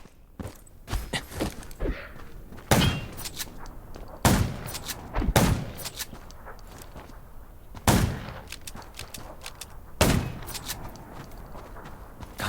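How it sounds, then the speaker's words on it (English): Video-game gunfire while fighting zombies: a few sharp, loud shots spaced irregularly over several seconds, mixed with footsteps and scuffling, with no speech. "Gunshots will attract more."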